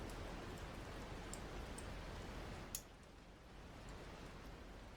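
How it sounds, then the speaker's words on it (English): Rain falls as a steady, dense hiss with faint scattered ticks of drops, continuous and moderately quiet, with no voices. "it's still fucking raining."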